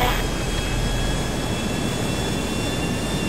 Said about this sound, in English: We're gonna go up and get in the jet.